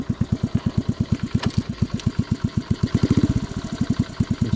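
A C65 motorcycle engine with an untuned carburettor runs close by, a loud steady chugging single-cylinder beat with rapid even pulses that swell slightly and get rougher near the end, no voices.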